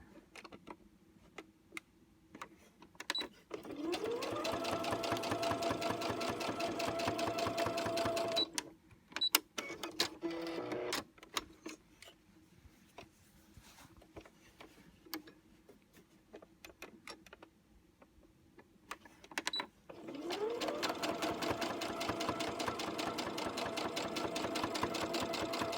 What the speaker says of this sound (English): And then taking it back to the sewing machine one more time